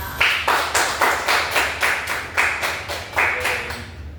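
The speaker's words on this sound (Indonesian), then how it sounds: "kalian ini emang patut di applause ya" Students in a classroom clap together, producing a string of sharp, evenly spaced bursts of applause, about two per second, close and clear with no talking over it.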